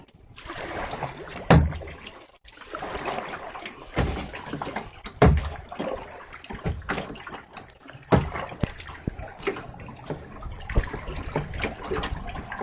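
Kayak paddles dip and pull through the water during a race, each stroke a sharp splash followed by sloshing and dripping in an irregular rhythm, close and fairly loud.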